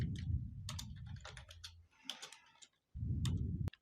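Bursts of typing on a computer keyboard, clicking keys in quick uneven runs with short pauses, heard close and alone over a low steady hum.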